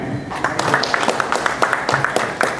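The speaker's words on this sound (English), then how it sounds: "Guys, a round of huge applause." Audience applause at an interview with the Thug Life film team, steady scattered clapping from a crowd throughout.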